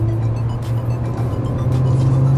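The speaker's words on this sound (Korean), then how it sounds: "자, 조금 더 가속을 해보도록 하겠습니다." A new Hyundai Sonata sedan's engine drones steadily under acceleration, a loud continuous low hum with a rising tone heard from inside the cabin, no voices present.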